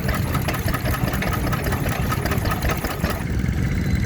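A Ruston Hornsby 2.5 hp stationary engine and a Lister Junior run together outdoors at a plough day, a loud, steady, close-up chugging with a continuous rhythmic low thumping throughout.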